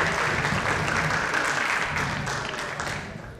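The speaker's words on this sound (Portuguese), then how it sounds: "uma salva de palmas para os nossos astros" An audience at a comic hypnosis stage show applauds loudly, a dense, sustained wash of clapping that fades slightly toward the end.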